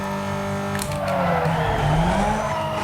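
A racing car's engine in Need for Speed: Most Wanted roars steadily at high revs, pitch rising and falling as it speeds and corners, with a brief tire skid.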